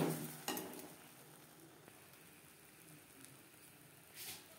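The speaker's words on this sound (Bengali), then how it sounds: "যেই জলটা আমি দিলাম নাড়াচাড়া করে করে ড্রাই করে নিতে হবে" Ground green pea paste is stirred in a pan until it dries out, for pea kachori filling: faint scraping and soft sizzling, with a slightly louder scrape near the start and another near the end.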